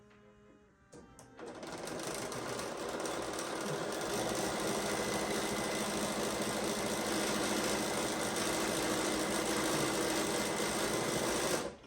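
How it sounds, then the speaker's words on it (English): A sewing machine top-stitches the pocket of a fully lined apron, running in a steady, loud, continuous whir for about ten seconds after a brief spoken word at the start. "I'm gonna just top stitch that so that that will stay down."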